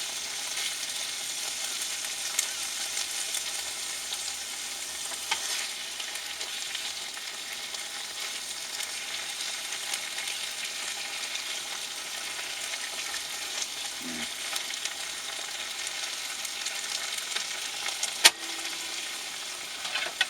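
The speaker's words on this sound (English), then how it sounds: "Give that a minute or so so the sauce warms up nicely." Sauce warming in a pan during cab cooking in a truck, giving a steady, even sizzle throughout, with a brief faint tap near the end.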